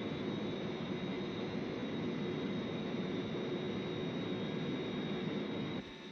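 Zero-X craft lifting off, a steady, loud roar of rocket engines holding at full strength throughout before dropping slightly at the very end.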